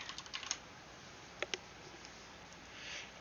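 Quick, faint keystrokes tapping on a computer keyboard, a short burst of clicks near the start and a couple of sharper taps in the middle, set against a quiet hiss with no talking.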